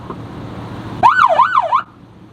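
A loud electronic yelp siren from a PA system warbles rapidly up and down for about a second, starting abruptly and cutting off sharply over a low background hum.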